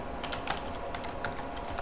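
A computer keyboard being typed on to enter a search into Google, quick light key clicks in an irregular run, close and moderately quiet, with no talking over them.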